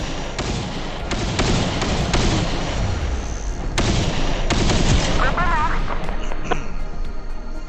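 Game gunfire in the mobile shooter Tacticool rattles in dense, loud bursts with booming shots and explosions, close and nearly continuous, while players talk over it.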